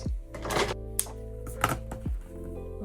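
Scissors cut through folded outer fabric for a purse in a few close, crisp snips and thunks, with a soft rustle of cloth between the cuts.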